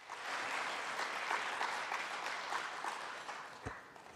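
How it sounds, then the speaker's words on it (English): An audience at a trade union event applauds, a dense, steady wash of many hands clapping that holds evenly throughout and eases slightly near the end. "That's the moment for an applause."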